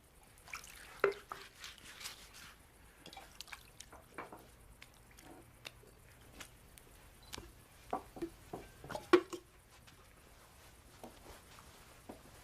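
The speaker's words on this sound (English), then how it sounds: "he poured some water into a wash basin and began to wash the disciples' feet" Water splashes and drips in a wash basin as feet are washed, with scattered soft, close patters and trickles at irregular intervals in an otherwise quiet room.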